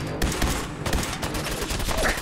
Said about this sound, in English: Oh, you all have submachine guns.